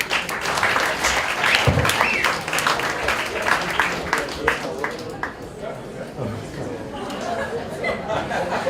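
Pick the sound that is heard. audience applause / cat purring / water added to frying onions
audience applause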